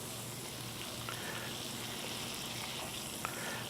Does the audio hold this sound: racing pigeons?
no